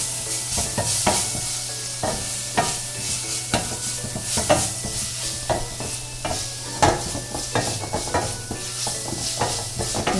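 Onion sautéing with ginger garlic paste and green chilies, a continuous close sizzle punctuated by frequent sharp spatula scrapes and taps against the pan, with no talk throughout.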